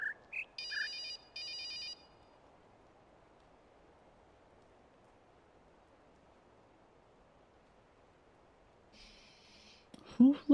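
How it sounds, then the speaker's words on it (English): A phone ringtone plays inside the puzzle video game The Witness: a short burst of bright, buzzy electronic rings at the start, a long quiet stretch, then another ring near the end as a voice briefly starts speaking. "Why does it sound like there's a phone?"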